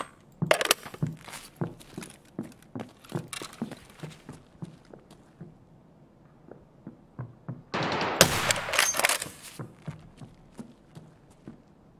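Gunfire in the video game Escape From Tarkov: a long run of single shots cracking at a steady pace, then a dense loud burst of rapid fire near the end, with no talking.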